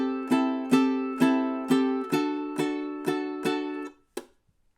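A ukulele plays the 90-to-91 passage of a song's solo, eight evenly spaced strummed notes ringing and decaying in a steady rhythm, then a short final muted chunk, close and clear with no talking.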